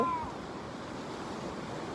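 Sea waves wash continuously at the shore, a soft, steady surf hiss that stays fairly quiet, with a brief tonal squeak right at the start and no speech.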